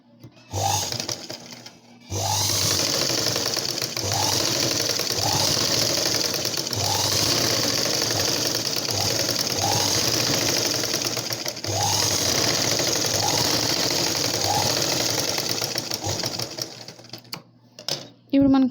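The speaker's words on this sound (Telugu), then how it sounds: "ఇప్పుడు మన హ్యాండ్ని ఒక సైడ్ అంచు కుట్టుకోవాలి" A sewing machine stitches along the edge of a blouse sleeve in long continuous runs, its rapid rhythmic needle clatter close and steady, pausing briefly between passes.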